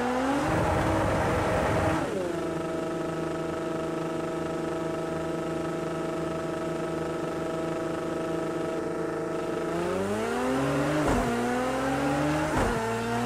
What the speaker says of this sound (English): Mind the wheel spin, away you go.